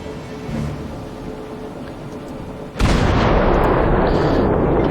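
Naval guns firing in the World of Warships game, a sudden loud booming blast that rolls into a sustained roaring rumble after a quieter stretch of engine and ambient noise.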